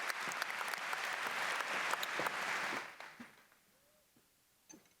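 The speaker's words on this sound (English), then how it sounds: "Let's give her another round of applause." A graduation audience in a large hall gives a round of applause, dense clapping from a big crowd that swells briefly and then tapers off into scattered claps and quiet.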